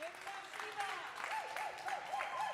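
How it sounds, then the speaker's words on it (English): Steady applause from an audience fills the whole clip, dense clapping with a few whistles or cheers cutting through near the end. "let's give them a round of applause for trying."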